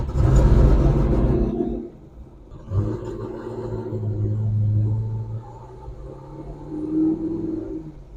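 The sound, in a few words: C6 Corvette Z06 driving on a test ride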